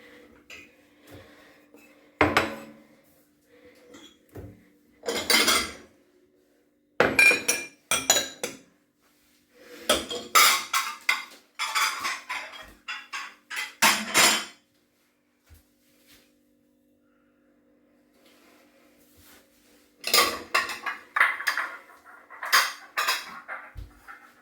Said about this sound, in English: Remove dishes, remove any excess water,